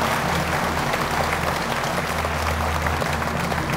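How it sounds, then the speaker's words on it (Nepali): A studio audience on a quiz show applauds throughout, producing a continuous, even wash of clapping from many hands that holds at a steady level from start to finish. "ताली बजाइदिनुहोस् न"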